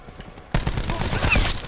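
Gunfire erupts suddenly in Call of Duty Black Ops 4 after a quiet moment, a dense, loud burst of rapid shots that continues to the end.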